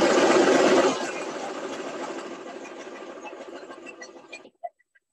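A sewing machine stitches fabric for a homemade mask or reusable paper towel, running with a loud rapid hum for about a second, then continuing more quietly before slowing to a stop with a couple of final clicks, without any talking.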